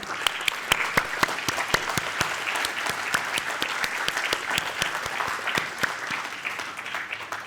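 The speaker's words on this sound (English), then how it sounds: "Please clap." An audience at a graduation ceremony claps steadily and loudly for the full stretch, with dense, even applause and a few sharper individual claps standing out near the front.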